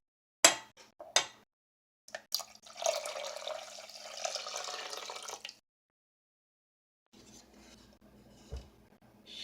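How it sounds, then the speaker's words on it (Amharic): Cold water splashes and pours into a metal cooking pot for a few seconds, after a couple of sharp knocks, followed later by quieter clinking and handling sounds. "ቀዝቃዛ ውሃ ወደ 4 ብርጭቆ የሚሆን እንጨምራለን።"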